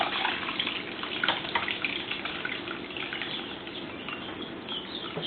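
Grape juice is poured into a container, making a soft, steady trickling and splashing of liquid that runs on without a break, faint and close, with no talking.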